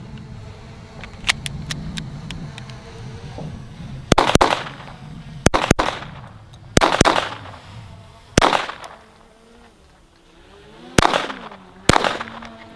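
Sharp gunshots ring out from an FN 502 .22LR pistol, about six separate reports spaced irregularly a second or two apart, each crisp and close with a short decay, after a stretch of quieter handling noise.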